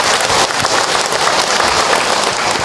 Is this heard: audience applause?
yes